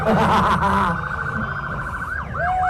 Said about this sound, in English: it sounds to me like it's the BC ambulance